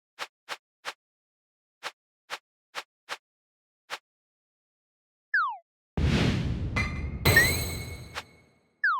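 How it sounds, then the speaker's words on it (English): Short glassy clicks and pings from a Unity 2D space game menu as the selection moves between buttons, several quick ticks in irregular groups, followed by a swoosh, a noisy burst and bright chiming tones. "We get a sound now when we move from button to button."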